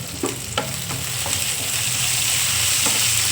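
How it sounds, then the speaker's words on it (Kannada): Tempering of urad dal and curry leaves sizzles steadily in hot oil, a constant crackling hiss with a few light clicks of a spoon stirring near the start. "ಈಗ ನಾವು ಉಪ್ಪು ಹಾಕಿದ್ರೆ ಎಷ್ಟು ಬೇಗ ಒಗ್ಗರಣೆನೂ ಬೇಯುತ್ತೆ ನೋಡೋದ್ರಲ್ಲಿ"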